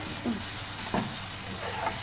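Leafy greens frying in a pan give a steady hiss of sizzling, broken by two or three quick scrapes of a spatula stirring them.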